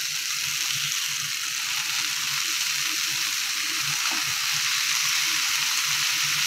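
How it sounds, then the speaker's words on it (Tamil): Chopped spinach (siru keerai) sautéing in a pan for Tamil keerai kootu, giving a steady, even sizzle that runs unbroken throughout with faint clinks underneath. "இப்போ இதை நல்லா வதக்கிக்கலாம்."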